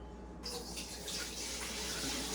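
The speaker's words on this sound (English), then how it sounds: "It's time to rinse the potatoes." Tap water runs over potatoes being rinsed, a sudden gush that starts in a split second and then continues as a steady close hiss of splashing water.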